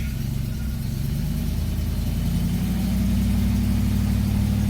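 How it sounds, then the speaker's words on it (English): Triumph Stag engine pulling away in first gear, a steady mid-low engine drone that holds level and swells slightly toward the end, heard close with no talk. "Putting in first, release and clutch."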